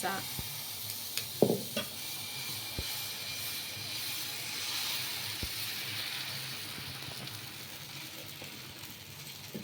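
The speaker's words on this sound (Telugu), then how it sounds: "ఇప్పుడు దోశ అయితే వేసుకుందాం టమోటో దోశ" Tomato dosa batter sizzles steadily on a hot pan, a soft continuous frying hiss with a few faint clicks and knocks of utensils near the start.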